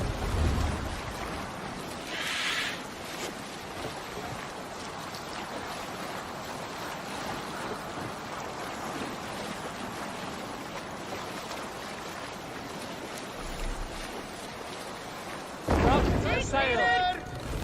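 Steady wash of sea waves and wind around a Viking longship under sail in Assassin's Creed Valhalla, a continuous rushing surf bed with a brief louder splash near the end.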